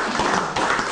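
Brief burst of applause at a speech event approving a housing project, a dense, even patter of many hands at moderate level, with no voices.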